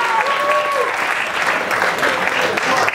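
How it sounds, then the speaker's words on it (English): A magic show audience at a festival bursts into loud, continuous applause, with a voice calling out over the clapping throughout. "A big applause for me."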